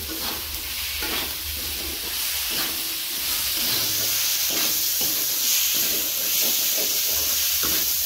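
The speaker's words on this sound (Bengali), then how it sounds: "মশলা ভাজা হয়ে গেছে, এর মধ্যে আমি গেঁড়িগুলো দিয়ে দিচ্ছি" Freshwater snails dropped into spices already frying in a village kitchen pan, a loud steady sizzle and hiss with stirring scrapes recurring every second or so.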